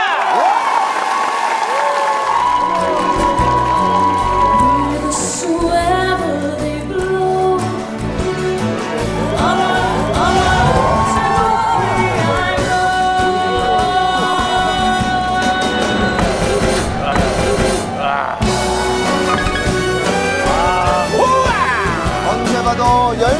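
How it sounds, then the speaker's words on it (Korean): A television studio audience applauds a dance sport couple on an entertainment show, sustained loud clapping and cheering mixed with music playing throughout. "마지막 3연승을 향해 달려온 황유성, 김지수 커플을 큰 박수로 마시겠습니다"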